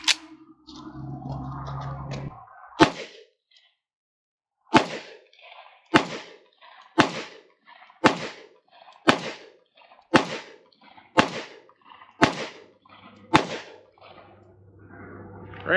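Ten sharp gunshots from a Rock Island 22TCM pistol ring out one after another at a steady pace of roughly one per second, loud and close, each followed by a short decay.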